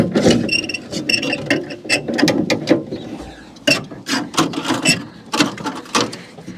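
Worn rear window winder mechanism of a Holden HK wagon being cranked, a series of close, sharp clicking and ratcheting bursts with brief pauses, loud and irregular, with no talking.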